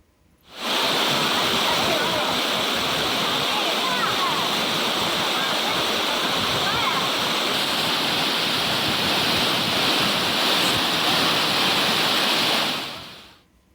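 A waterfall at Meghamalai, where tourists bathe in the falling water, roars as a loud, continuous broadband rush that fades in and out at the edges and holds steady throughout.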